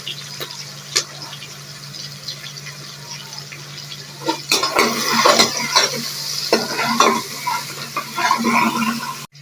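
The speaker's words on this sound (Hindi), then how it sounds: "पहले हमने डाला प्याज ब्राउन होंगे, फिर उसके अंदर और मसाले डालेंगे।" Onions frying in a pan for a chicken recipe, with a steady sizzle under stirring and scraping that swells into louder, busier clattering midway.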